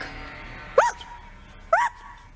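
A person imitates a dog barking, giving two short, sharp yelping barks about a second apart, close and fairly loud over a quiet room.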